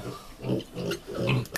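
Piglets grunt in a pig pen, several short rounded grunts coming in an irregular rhythm, fairly close and moderately loud.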